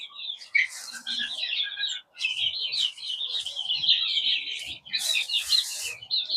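Chirping from a group of about thirty young chicks in a brooder, a dense stream of high, overlapping peeps that runs nearly continuously with brief pauses, close and fairly loud, without talk.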